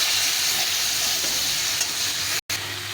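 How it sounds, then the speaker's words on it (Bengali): Chili and ginger paste fries in a pan with water added, giving a loud, steady sizzle with stirring scrapes throughout and a brief dropout near the end, for a Kalo jeera Katla fish curry. "দিয়ে এটাকে ভালো করে কষিয়ে নিতে হবে।"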